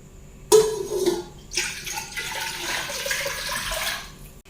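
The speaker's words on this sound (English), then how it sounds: "I'm going to pour in the stock," Chicken stock poured into a pot of rice: a sudden splash, then a rushing, gurgling pour that fades after a few seconds, close by.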